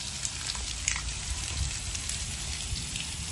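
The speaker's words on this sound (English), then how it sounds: "you can see the water hose that has busted a hole in it, and the water is just flowing out." Water gushes and sprays steadily from a hole burst in a garden hose that was left on with its nozzle shut, a constant close hiss with faint patter throughout.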